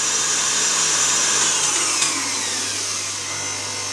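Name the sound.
electric mixer whipping chocolate Swiss meringue buttercream at highest speed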